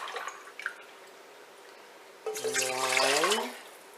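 Spring, distilled or purified water pours from a container in a rising stream for about a second, its pitch climbing as the vessel fills, preceded by faint drips and light handling noise in a quiet room.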